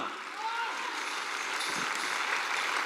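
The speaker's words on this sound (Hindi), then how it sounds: "मैं चाहूंगा एक जबरदस्त अब तक एक जोरदार तालियां।" A large audience at a wellness company's award show in Rajgir, Bihar, breaks into thunderous applause, a smooth, unbroken roar of massed clapping that swells slightly and sustains at an even level.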